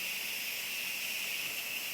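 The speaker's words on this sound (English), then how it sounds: "And I'm sure you hear that. That is the steam coming off of our spaghetti." Steam forcing out of an Instant Pot's release valve while cooking spaghetti and meat sauce, a steady loud continuous hiss with no break and no talking.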